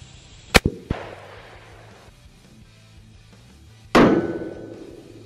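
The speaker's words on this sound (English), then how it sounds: "we're gonna shoot this Ruger Red Hawk 44 Magnum." Ruger Redhawk .44 Magnum revolver fired into drywall outdoors: an initial sharp crack with quick echoing impacts, a pause, then a second loud blast with a long rumbling decay.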